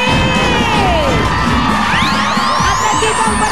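A crowd of women and barangay residents at a live noontime variety show in the Philippines cheers and shouts loudly, with whoops and high calls rising over a continuous roar.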